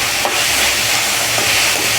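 Tomatoes and onion sautéing in a pan give a loud, continuous close-up sizzle with a soft stirring scrape in it.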